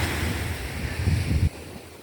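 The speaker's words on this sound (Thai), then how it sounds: "มาฟังเสียงน้ำทะเลที่อ่าวทุ่งซาง" Sea waves wash onto the shore at Thung Sang Bay, a quiet beach in Pathio, Chumphon, Thailand, with a loud, continuous rushing surf and wind noise that drops off abruptly near the end.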